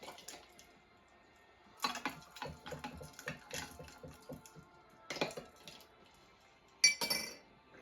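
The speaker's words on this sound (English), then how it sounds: "Give it a little stir to mix them all together." Stirring a festive drink of vodka and ginger ale in glass: a series of light clinks and taps of a spoon against the glass, irregular and close, with brief liquid sounds between quiet gaps.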